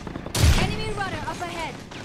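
Gunfire in Synced, a free third-person shooter video game, as a short burst of shots near the start followed by a softer trailing rumble, fairly quiet overall.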